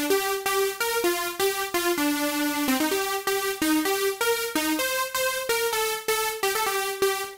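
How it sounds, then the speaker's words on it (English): A bright electronic synth counter melody from a big-room dance track plays alone, with steady plucky notes stepping through a catchy riff at a driving tempo. "So the counter melody sounds like this."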